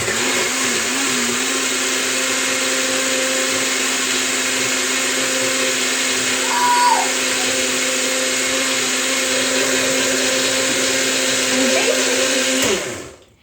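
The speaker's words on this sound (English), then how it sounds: "We get our Magic Bullet type blender." A Farberware Magic Bullet-type blender whirs loudly and steadily for several seconds, then spins down and stops at the end.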